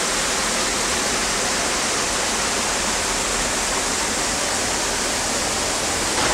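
Waterfall pouring out of a cave mouth: a steady, dense roar of rushing water, loud and close, with no break or voices across the stretch.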